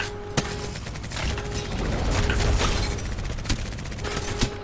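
Gunfire in Apex Legends: single sharp shots crack out at irregular intervals over a rumbling, busy background, with a swell of heavier noise in the middle.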